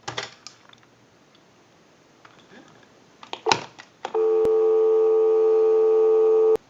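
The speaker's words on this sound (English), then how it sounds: "Go ahead and give you some dial tone." A few clicks and rustles, then a steady dial tone from a Western Electric 2554 wall telephone switches on and holds unbroken, clear and close.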